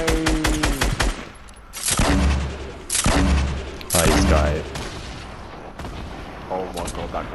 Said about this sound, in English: that grenade was so close to you